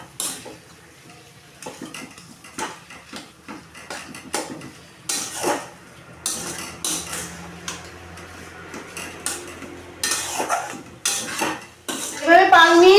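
Metal spoon clattering and scraping against a pan while boiled potato is stirred into fish, irregular close knocks and scrapes with short pauses, growing busier and louder toward the end.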